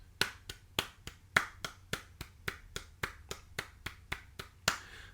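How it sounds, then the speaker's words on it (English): A single person claps a steady, even rhythm in straight eighth notes, about sixteen crisp, evenly spaced claps with no swing, close and clear with no talking. "I was just clapping what I would call straight eighth notes"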